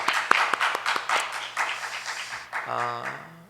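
A church congregation claps in praise during a Thanksgiving Sunday service, a brisk burst of hand claps that thins out after a couple of seconds before a voice begins speaking.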